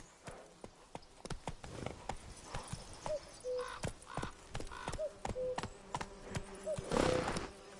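Roach, a horse in The Witcher 3 on PS5, gallops in steady clip-clop hoofbeats that run through the whole stretch, with a few brief whinnies and snorts mixed in and a breathy rush near the end.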